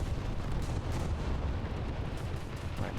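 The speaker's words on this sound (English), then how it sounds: "Just watched freaking bombs land right on that fella." Bombs land and explode on a warship in a naval combat video game, a dense, continuous rumble of blasts and gunfire-like booms that stays loud and steady throughout without any pause.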